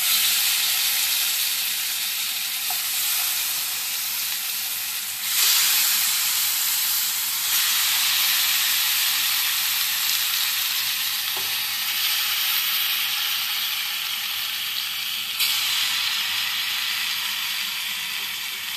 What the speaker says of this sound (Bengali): চিকেন পিসগুলো একটুখানি এপিট ওপিট করে লাল লাল করে ফ্রাই করে নেবো